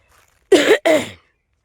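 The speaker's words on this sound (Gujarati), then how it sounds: "શરદી ગઈ હવે ઉધરા આવી" Two harsh coughs in quick succession, close and loud, followed by silence.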